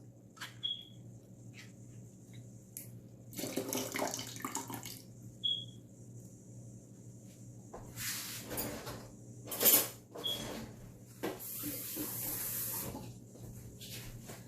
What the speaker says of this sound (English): we're also going to add the liquid off of the pineapple chunks